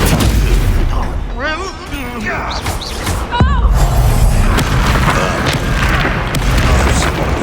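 Spell combat in the Hogwarts Legacy video game, with loud booming blasts and thuds of an explosion spell amid dense game effects and swooping tones, continuous and close throughout.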